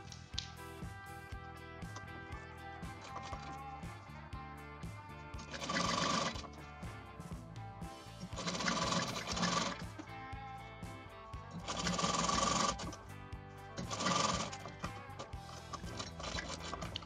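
Electric sewing machine stitching a zip into a blouse in four loud bursts of rapid, close-up whirring, with quieter handling and background hum in the pauses between runs.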